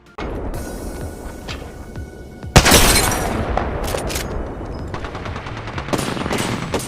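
Gunfire in the video game Apex Legends, with a Kraber and Devotion in use: rapid automatic bursts and a loud boom midway over constant rumbling battle noise, loud and close.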